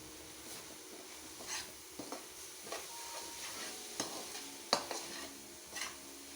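Spices frying in a pan with oil while being stirred, giving a soft steady sizzle broken by several sharp clinks and scrapes of a utensil against the pan.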